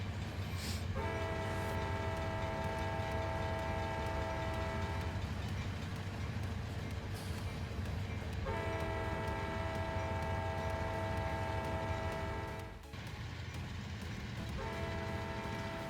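A locomotive horn in the train simulator Trainz 2019 sounds in two long, sustained blasts separated by a pause, over a constant rumble of rolling rail cars.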